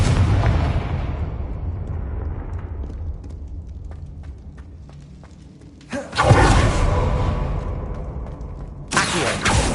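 Spell explosions, Bombarda and Confringo, in Hogwarts Legacy: a loud, booming blast that rumbles and decays over several seconds, then a second sharp explosion with a long roaring tail, and a third burst starting near the end.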